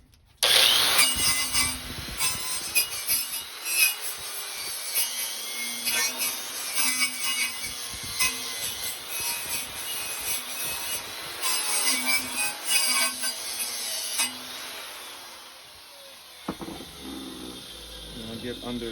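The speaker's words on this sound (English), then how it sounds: "Wire brush." Wire brush scrubbing a cracked, bent basketball hoop rim before welding, a steady harsh scratching that runs for most of the stretch, loud and close, then stops near the end.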